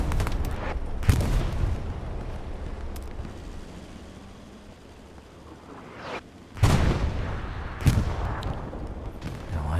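Explosions and gunfire in the WWII shooter game Hell Let Loose on Omaha Beach, with a steady battle rumble and sharp loud blasts near the start and two heavier booms late on, with no talk over them.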